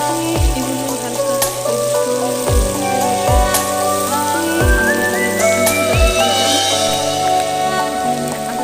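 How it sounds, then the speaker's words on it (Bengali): Vegetables for fried rice stir-frying in a hot pan, a steady sizzle broken by several regular scraping knocks of the spatula, with a faint rising whistle-like tone in the background and no talking. "সবজিটা এখন দিয়ে দিচ্ছি, দিয়ে ভালো করে নেড়ে চেড়ে নেব"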